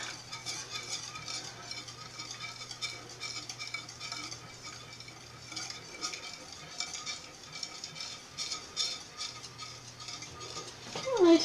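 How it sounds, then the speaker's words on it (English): A whisk stirs chocolate into hot milk in a pan, giving a soft, continuous scraping and clinking at a low level, with a brief louder knock at the end. "It says whisk until chocolate is melted."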